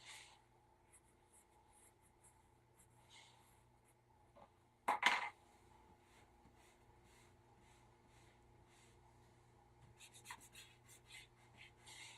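An eraser rubs across toned paper in short scratchy strokes, soft and close, with one louder rasping burst near the middle and a cluster of quick rubs toward the end over a quiet background.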